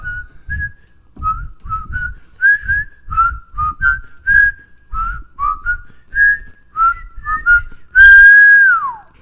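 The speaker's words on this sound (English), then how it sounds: "We put a harmony whistles in one of his songs" Someone whistles a lively tune with quick, bouncing notes over a soft low rhythmic backing. The phrase ends in a long, loud note that slides downward.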